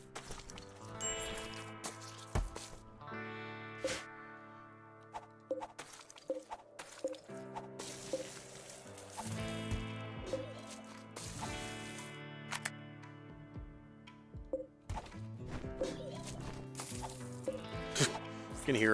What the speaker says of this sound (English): You can hear him just slowly throwing up in the background.